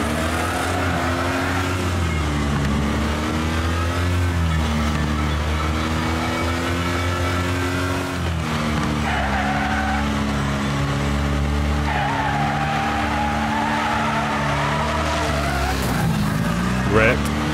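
Race car engine droning in the video game Wreckfest as the car gets loose, spins and skids, tires squealing against a steady loud roar, with a player talking over it.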